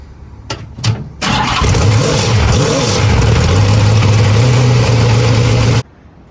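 A tarmac rally car cranks over after a few brief mechanical clicks, then catches and roars into a loud, steady close-up idle for several seconds before cutting off abruptly.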